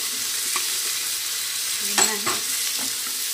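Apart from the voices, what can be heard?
vegetables frying with onions for khichdi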